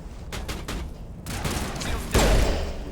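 Gunfire in a Mass Effect 1 firefight with a sniper, several sharp shots early on, then a louder heavy blast near the end against steady background noise.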